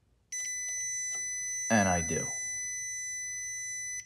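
A multimeter's continuity beep sounds while probing the circuit of a low-power Fender '57 tweed Twin amplifier: one steady high-pitched tone that holds for nearly four seconds, with someone speaking briefly over it.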